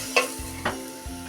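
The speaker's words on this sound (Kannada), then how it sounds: "ಅದಕ್ಕೆ ಇಷ್ಟು ಒಗ್ಗರಣೆದು ಸೌಂಡ್ ಬರಾಕತ್ತೈತೆ" Spices crackle and sizzle in hot oil over a high gas flame for a village-style oggarane tempering, with a few sharp stirring scrapes over a steady close hiss.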